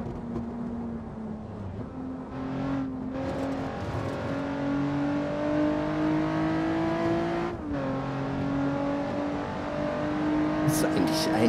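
A Nissan 350Z in the racing game Assetto Corsa revs and shifts through gears with a steady engine drone and rising pitch, plus faint tire squeal, while someone talks over it.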